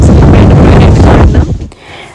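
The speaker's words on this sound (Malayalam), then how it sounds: "നല്ല കാറ്റുണ്ട് ഇവിടെ" Strong wind on Sir Bani Yas Island near Abu Dhabi buffets the microphone in a loud, close roar that drops off sharply near the end.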